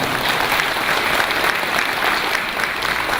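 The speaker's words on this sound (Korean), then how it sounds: "두 분께 한번 격려의 박수, 감사의 박수 보내주시기 바랍니다" Audience at a factory-opening ceremony claps in thanks, a continuous loud, dense applause from a sizeable crowd with no pause across the whole stretch.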